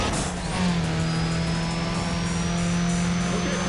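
A race car in Need for Speed: Pro Street surges under nitrous boost, its engine holding a loud, steady, rising drone with a thin high whine on top, close and continuous throughout.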